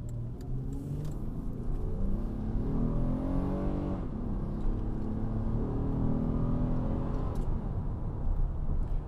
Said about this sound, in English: we'll open it up and see what it feels like when you step on the gas